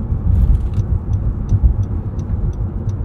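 A 2022 Acura NSX Type S supercar hums steadily while driving, a low engine and road drone from the cabin with faint regular ticking above it.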